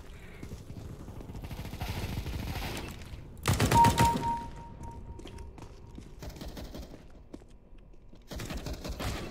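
Bursts of CS:GO gunfire crack out in the game, a dense volley around the middle and another near the end, with rattling shots between; no speech during the shooting.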